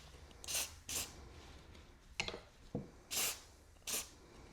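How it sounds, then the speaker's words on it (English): WD-40 oil sprayed onto the joints of garden shears, heard as several short hissing bursts from an aerosol can at close range, separated by brief pauses and a few small clicks and handling noises. "make sure you're spraying that on the joints"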